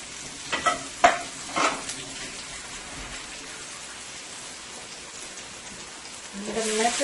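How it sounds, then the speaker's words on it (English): Onion and garlic hit hot oil in a pan with a steady, quiet sizzle, a few sharp clatters of stirring early on and a louder burst of frying toward the end; no one speaks. "I'm going to go ahead and add my onion to my oil."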